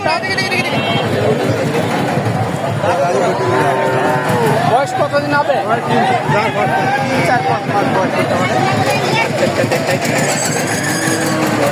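Cattle moo repeatedly at the Dhap livestock market in Bogura, where heifers are sold. The lowing rises and falls under steady crowd chatter, with people talking nearby and engine noise in the background.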